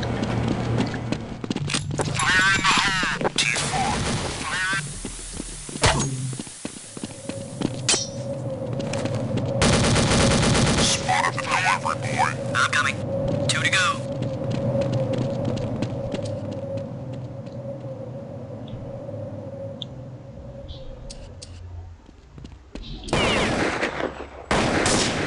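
Repeated sniper rifle shots and bursts of gunfire in Counter-Strike: Condition Zero, loud sharp cracks scattered across the scene with a steady tonal hum in the middle stretch, no talking over it.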